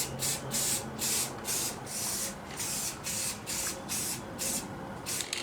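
A can of flat black spray paint hisses in a workshop in about a dozen short, evenly spaced bursts, close and steady, with no talk.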